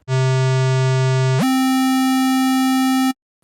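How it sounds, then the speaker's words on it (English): A buzzy, hollow square-wave synth tone holds one low note, then jumps to a higher note and holds it steadily before cutting off abruptly. "The square wave has a more hollow sound."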